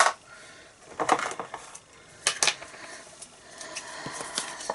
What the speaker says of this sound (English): Let's get our scissors out.